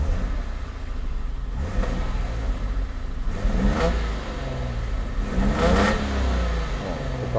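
Engine of a Mercedes R107 280SL under repair revs up repeatedly, two or three rising surges over a steady close idle rumble, loud and alone with no talk.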